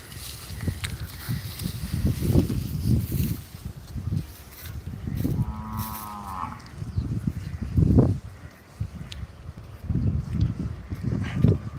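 Cattle shuffle and thump in a large cow shed at a gaushala (cow shelter) in Surat, India, with low rumbling movement, and one brief moo rises faintly in the middle.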